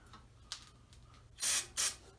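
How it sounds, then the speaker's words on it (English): Two short, sharp hissing bursts from an aerosol can of brake cleaner, close by, after a quiet stretch with faint ticking. "Give it a quick little spray."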